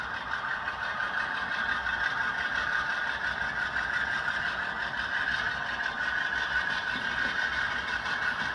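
Sound unit of a Rapido model train locomotive on a layout, producing a steady, continuous diesel-like engine drone with a constant hum throughout.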